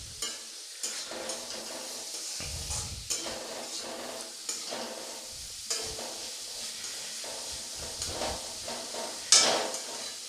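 Grated carrot stirred in a pan for a spinach and paneer dish, a steady sizzle with intermittent spatula scrapes and knocks and one sharp metallic clink near the end.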